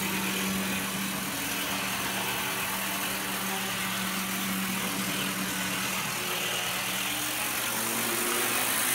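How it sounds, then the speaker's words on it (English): A Hobbytown 87612 six-axle model chassis runs its high-speed motor, giving a steady, fairly noisy whirring drone with a faint tonal whine throughout, no talking. "high-speed motor makes it quite a bit noisier than the last chassis"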